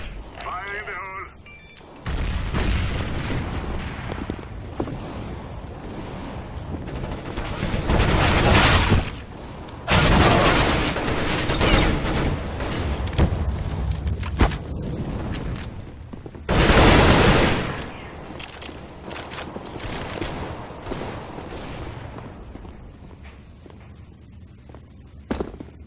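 Rapid gunfire from the video game CS:GO crackles in repeated loud bursts and sustained volleys, with quieter gaps between the heavy exchanges.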